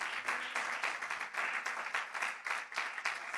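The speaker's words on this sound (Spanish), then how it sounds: "¿Cuánto le dan un aplauso al Espíritu Santo?" A church congregation claps in a rhythmic, pulsing pattern during a worship service, the bursts rising and falling roughly twice a second, close and lively.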